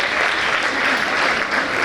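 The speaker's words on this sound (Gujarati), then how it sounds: "પ્લીઝ જોરદાર તાળીઓ સાથે" Enthusiastic applause at a Women's Day celebration in a college courtyard, welcoming a guest; dense, steady clapping from an audience filling the whole clip.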